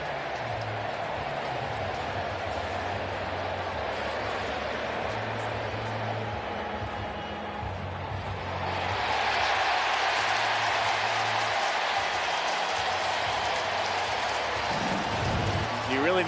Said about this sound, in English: You can hear the crowd here. They're making their call themselves,